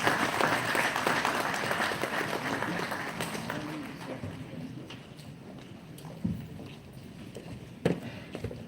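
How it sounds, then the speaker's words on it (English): A conference audience applauds steadily in a hall, a dense wash of clapping that gradually thins and fades, with a few louder isolated claps near the end. "Please join me in welcoming him with a warm round of applause."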